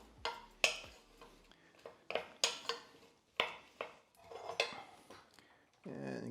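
A wooden spoon stirs potato leek soup in a pot, knocking and scraping against the sides in a series of distinct, close clatters, with a brief louder burst near the end.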